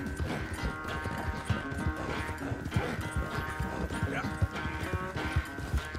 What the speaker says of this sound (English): the first time I played through this game, I had a horse that I named Epona